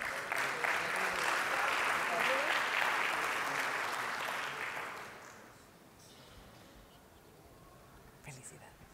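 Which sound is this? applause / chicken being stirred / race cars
applause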